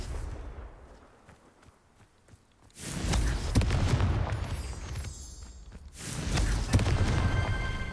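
A Confringo fire spell cast in Hogwarts Legacy gives two loud, heavy explosive booms, one near three seconds in and a second near six seconds, each rumbling and crackling before fading, after a quieter stretch of rustling.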